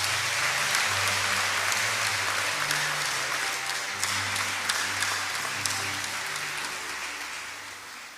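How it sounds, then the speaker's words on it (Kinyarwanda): Church congregation applauding to welcome the bishop, sustained loud clapping that tapers off toward the end, with low hum beneath and no clear talk. "mbasabe muntize amashyi menshi, twongere twifurize ikaze umwepiskopi wacu"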